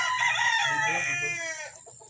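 A Maclean hatch gamefowl rooster of the B-boy line at a game farm lets out a loud, close crow that rises, holds and then trails off, with clucking around it and no talk.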